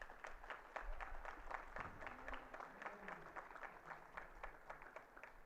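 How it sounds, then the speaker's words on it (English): Graduating students applauding at a university convocation ceremony, steady crowd clapping in a large hall, faint and distant throughout. "Please give yourselves a round of applause."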